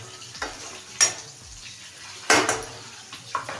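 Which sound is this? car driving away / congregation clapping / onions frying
onions frying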